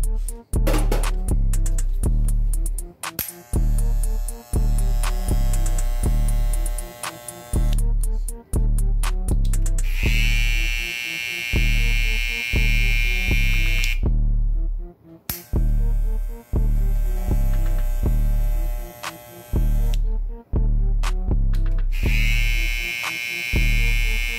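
Cordless hair trimmers, an Andis T-Outliner and a BaByliss FX Skeleton, buzzing loudly up close in alternating runs, with steady motor drone, brief clicks as they switch on and off, and a higher-pitched whine in some stretches.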